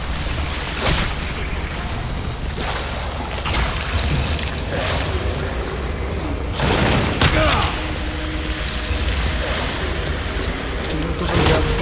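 Gunfire in the video game Resident Evil 4, repeated heavy booming shots and thuds scattered over a dense game soundscape, with people talking over the action.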